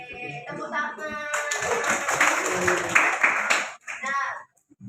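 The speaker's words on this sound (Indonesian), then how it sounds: "Oke, tepuk tangan." A class of students claps hands together in a classroom, brisk scattered clapping mixed with children's voices and chatter, moderately loud and close, ending abruptly.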